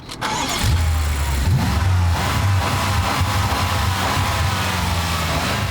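The 4.4-litre twin-turbo V8 of a 2013 BMW M5 starts with a sharp catch, then settles into a deep, loud idle with rising and falling revs, heard close with no talking.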